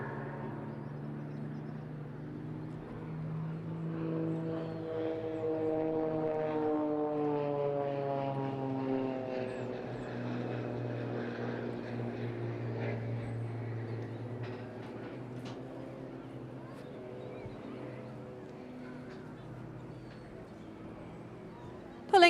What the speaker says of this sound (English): Pulling up now towards the middle, where he will demonstrate the rolling capability of the extra 300.